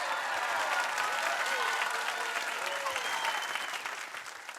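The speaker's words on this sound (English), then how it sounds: "Let's give a big round of applause for the So-and-So Show" Applause from an audience for a show's performers, steady and sustained throughout before fading slightly near the end, with faint voices mixed in.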